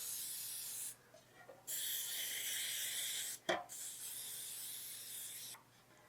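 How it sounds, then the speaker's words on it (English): Baker's Joy flour-infused nonstick cooking spray hisses into a baking pan in three long, close bursts separated by short pauses, with a brief clatter between the last two. "I'm going to be using some Baker's Joy because it's got the flour inside of the nonstick cooking spray"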